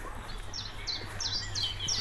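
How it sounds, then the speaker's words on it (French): Small birds sing outdoors in a quiet, sunny village, giving a series of short, bright chirps and tweets over soft ambient background noise, with no voices. "il y a les petits oiseaux qui chantent"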